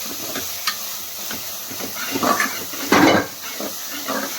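Cleaned goat head meat drops into a hot pressure cooker with ginger garlic paste, giving a sudden loud sizzle and hiss over a quieter steady frying background, with a few clinks of the pot.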